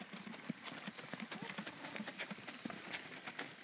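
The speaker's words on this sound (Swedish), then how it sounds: "Är du ute och åker häst" A trotting horse's hooves clip-clop in a quick, steady rhythm on hard ground, with a light scattering of other small outdoor sounds around them.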